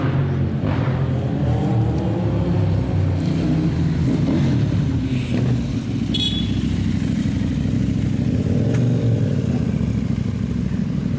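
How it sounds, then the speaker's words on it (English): Police motorcycles ride past on a city street in Zhytomyr, Ukraine, their engines holding a steady close rumble with traffic noise throughout and no talking. "Ah, the police on motorcycles."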